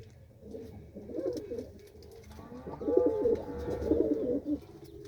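Pigeons cooing in a loft, a few bubbling, throaty coo phrases rising and falling, close and fairly quiet with no speech over them.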